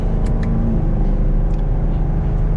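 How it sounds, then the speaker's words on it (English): A 2021 Chevrolet Camaro 2SS 1LE drones with a steady, loud, deep exhaust rumble under way, a continuous low roar with no talk over it. "Definitely a good sounding exhaust."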